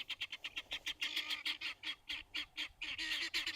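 Guinea fowl calling in a rapid, rhythmic series of harsh squawking cries, steady and fairly close, repeating without pause from start to finish with no talk.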